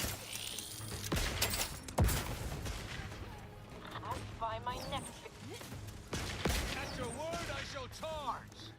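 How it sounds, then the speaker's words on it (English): Gunfire in Outer Worlds 2 hits a robot in several sharp bursts and single shots, with whirring mechanical sounds between them, while someone talks over the fight. "I'm not going to do anything except for shoot this robot."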